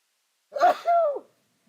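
A person sneezes once in a curling rink during a men's club playdown: a short breathy burst, then a voiced, tonal release. It is close and fairly loud, with no talk over it.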